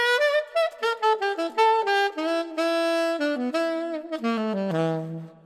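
Alto saxophone playing a quick phrase from a tune, a run of clear, distinct notes in fast succession ending on a held low note, close and solo with no talk.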